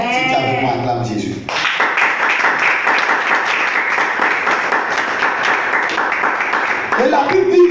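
A church congregation breaks into loud, sustained applause and cheering that fills about five seconds, following a brief spoken voice and then fading back into speech.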